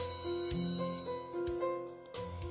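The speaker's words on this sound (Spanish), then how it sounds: "Suena la campana e interrumpe nuestra conversación." A school bell in a visual novel game rings in bright repeated tones over a quiet musical background, fairly soft and brief, with no speech.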